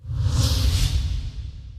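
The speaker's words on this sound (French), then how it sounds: "nous décollons à bord d'un hélicoptère de combat Fennec" A Fennec combat helicopter lifts off from an air base, a loud steady rush of rotor wash and deep rumbling engine noise filling the scene, close by with no voices.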